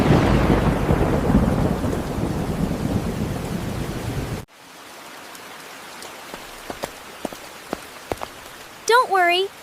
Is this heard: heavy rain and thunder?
yes